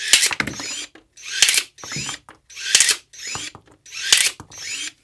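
GTM GS18/BL cordless pruning shears with a 4 Ah battery cut through a hardwood mop handle in a series of about six short whirring motor bursts with sharp cracks, close and loud.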